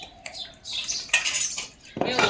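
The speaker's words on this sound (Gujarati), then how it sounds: "હાલો વાસણ ધોરાવા" Dishes and utensils clattering during washing up at home, with short metallic clinks and scrapes coming in irregular bursts, close by, and no talking.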